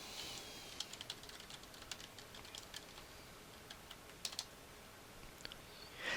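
Typing on a computer keyboard, a quiet, close patter of irregular key clicks with short bursts and pauses, ending in a slightly louder clack.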